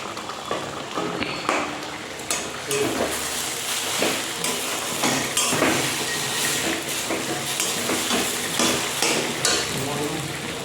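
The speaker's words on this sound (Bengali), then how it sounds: "একটুখানি জল দিয়ে ফুটিয়ে নিচ্ছি" Food simmers in a pan with a little added water, a continuous loud bubbling hiss with clinks and scraping of a spoon against the pan, close by and steady throughout.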